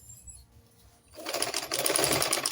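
A sewing machine stitches a deep neckline in skin-tone illusion net. After a quiet second the motor kicks in with a close, fast, steady whir that runs to the end.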